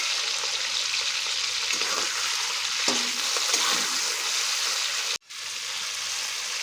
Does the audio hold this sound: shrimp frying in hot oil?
yes